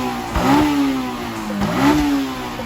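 A Honda S2000 with its 2-liter F20C engine revs hard toward 9,000 RPM twice, each rising wail climbing sharply then falling back, loud and close with no talking.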